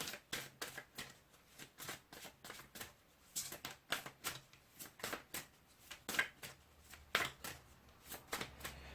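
Tarot cards shuffled steadily by hand for a Gemini reading, a rapid run of crisp riffling flicks repeating close to the mic, soft and even, no voices.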